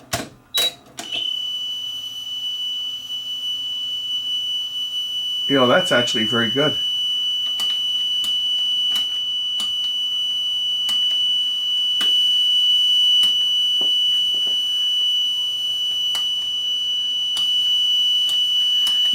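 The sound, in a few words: 3 kHz test tone played from cassette tape on Aurex deck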